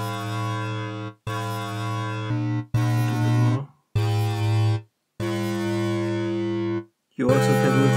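A PPG Infinite software synthesizer plays a series of sustained harmonic tones, each with randomly set gains per harmonic, giving six loud held notes of shifting timbre separated by short gaps.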